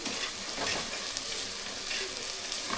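Small shallots sauté in a pan for a village-style fish curry cooked with raw mango, giving a steady, dense, close sizzle with light stirring throughout and no talking.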